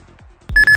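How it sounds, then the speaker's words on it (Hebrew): An alarm clock goes off loudly after a near-quiet moment, sounding a steady electronic ring with short rhythmic pulses that runs to the end. "שם שעון מעורר,"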